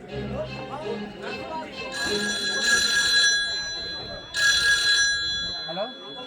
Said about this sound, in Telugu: cell phone ring